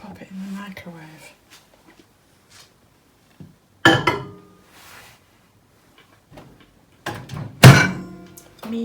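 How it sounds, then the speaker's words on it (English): A few soft handling noises, then a solid thunk of a microwave door shutting, with a second sharper bang near the end. "And pop it in the microwave."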